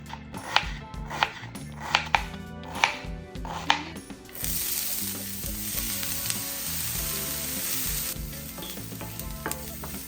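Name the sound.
chopping a small white onion and sauteing it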